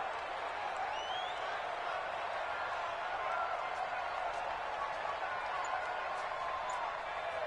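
Football stadium crowd before a big third down in a Saints game, a steady distant roar of cheering and noise with faint whistles, continuous at moderate volume.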